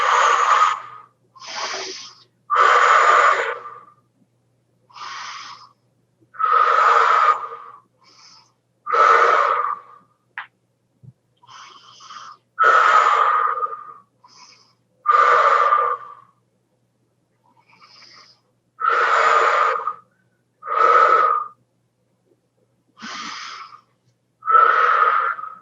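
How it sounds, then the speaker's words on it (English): Slow deep breaths drawn in and let out during a guided relaxation exercise, a steady series of close, airy inhales and exhales separated by short pauses. "So we're going to take a breath in. Breathe in, breathe out."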